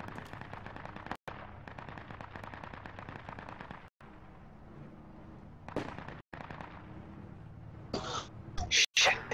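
Gunfire in the video game Project Reality, with bursts and single shots over a steady battle din, a few sharp, loud cracks near the end.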